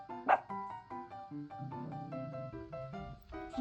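A dog barks and yips repeatedly up close, a series of short, excited vocalizations mixed with whiny, whimpering tones.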